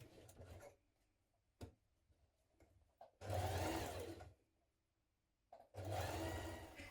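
A sewing machine stitches a coat cuff with a 1 cm seam allowance in two loud whirring bursts of about a second each, separated by quiet pauses with small handling clicks.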